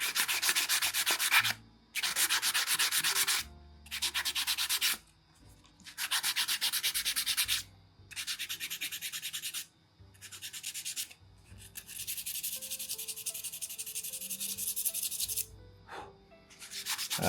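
Repeated bursts of rough, hissy sanding strokes on an acoustic guitar nut, each lasting a second or two with brief pauses between, close and steady.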